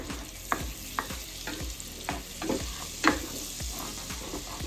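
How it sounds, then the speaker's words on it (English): Butter melts in a pan still coated with bacon drippings, giving a steady soft sizzle broken by regular scraping and stirring taps, fairly close and moderately loud, with no talking. "we're going to add our butter right to the pan"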